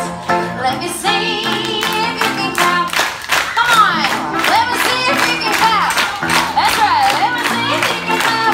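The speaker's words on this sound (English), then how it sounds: "we're going to clap all our hands" An audience at a musical revue claps along in steady rhythm over loud live music, with the claps sustained and evenly spaced throughout.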